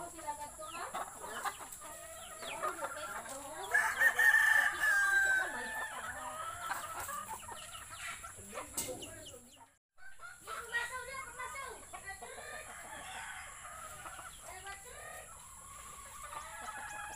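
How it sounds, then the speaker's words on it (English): Native chickens in a yard cluck repeatedly and a rooster crows, with several birds overlapping at moderate distance; a brief pause midway before the clucking resumes, with faint outdoor background throughout. "Ayan si Camille, nagpatuka sa aming mga alagang native chicken."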